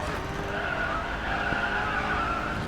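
Tires of a Corvette C8 skidding through a drift in the Racing Master video game, a steady loud screech over engine roar, held throughout.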